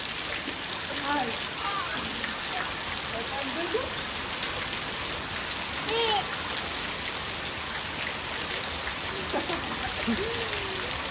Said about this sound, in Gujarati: વરસાદ આવે છે અત્યારે ફૂલ આવ્યો